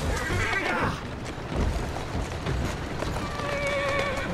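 A horse in the video game Assassin's Creed Syndicate whinnies over steady clip-clopping hooves as it trots, the sound close and continuous, with no talk.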